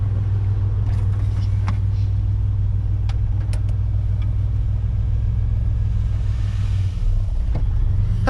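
The engine of a Ford OBS pickup truck idles after a fuel system overhaul, a loud, steady low rumble with a few faint clicks and knocks on top.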